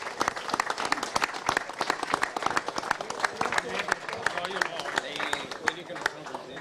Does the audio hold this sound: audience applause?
yes